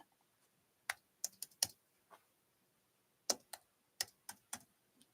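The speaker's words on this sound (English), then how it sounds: "I'm going to type that into the chat right now so you can click on it" Keystrokes on a computer keyboard come in two short bursts of crisp, close clicks separated by a quiet pause, with no talking.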